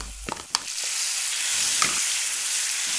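Ground onion paste with coconut powder goes into hot oil for spring onion chicken, with a few clanks at the start and then a loud, steady, dense sizzle stirred now and then.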